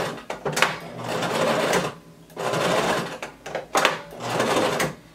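Sewing machine stitching back and forth along a denim skirt pocket, three bursts of fast rhythmic whirring and clatter separated by short pauses, close and moderately loud.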